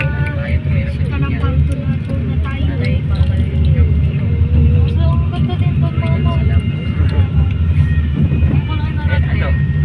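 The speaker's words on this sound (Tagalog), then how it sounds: "Helicopter, helicopter." Helicopter flying overhead, a steady loud mechanical drone throughout with people talking over it.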